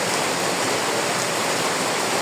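Heavy monsoon rain pours down steadily in Madaripur, a dense, even roar of falling water that holds constant from start to finish with no voices.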